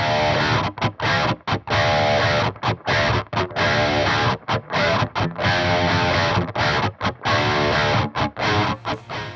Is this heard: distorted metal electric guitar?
yes